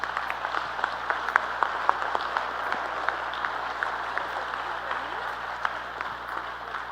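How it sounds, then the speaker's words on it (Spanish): An audience claps after a talk at a conference on democracy in Rosario, a moderate, steady patter of many hands with distinct individual claps, and voices murmur underneath. "ya aplaudieron"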